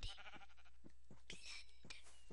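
Sheep in the Sheep Quest video game bleat in a handful of short, quiet, irregular calls, with faint breathy sounds between them.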